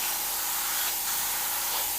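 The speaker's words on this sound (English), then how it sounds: "take a stencil, spray and move at the same time" An airbrush sprays paint through a stencil with a continuous hissing rush of air, loud and close, swelling slightly as the brush moves during streaking and staining on a Grim Reaper piece.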